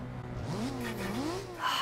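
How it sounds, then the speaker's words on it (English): A video game turbocharged Nissan 240SX SE drift-build engine, from Forza Horizon 2, revs with rising and falling pitch, a steady drone underneath and a brief turbo hiss near the end, close and fairly loud. "front end engine rev test."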